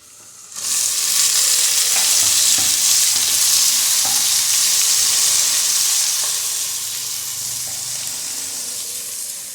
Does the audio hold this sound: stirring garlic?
yes